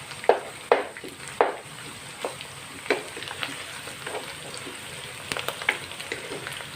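Aloo chicken curry ingredients frying in a pan, a soft steady sizzle with scattered sharp taps and scrapes of a spoon stirring, no talking.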